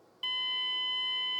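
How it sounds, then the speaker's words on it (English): A Zenith ZT-1 computer's built-in speaker beeps at power-on. After a brief quiet moment, a loud, steady electronic tone starts abruptly and holds unbroken to the end. "when you turn this on, you get a beep out of the speaker here"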